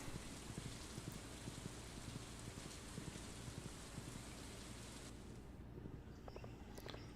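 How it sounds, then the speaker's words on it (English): Steady rain falls in the farming video game Stardew Valley, a dense continuous patter that stays even throughout and thins slightly near the end, with no talk. "Given that it's raining."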